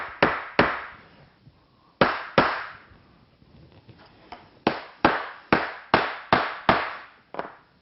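Block of wood tapping on a laminate countertop seam during final adjustments: sharp, close knocks, a pair, then another pair, then a quick run of about eight regular taps.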